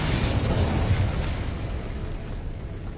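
The Incendio fire spell in Hogwarts Legacy bursts out as a loud whooshing, crackling blast that fades over a few seconds, with no voices.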